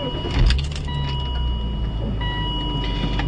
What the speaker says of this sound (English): so we'll start up the car.